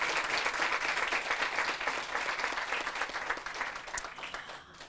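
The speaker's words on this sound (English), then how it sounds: "Can we please give our elected officials a round of applause?" A crowd at an elementary school groundbreaking ceremony gives a round of applause for elected officials, a brisk, full clapping from many people that stays strong and then begins to thin toward the end.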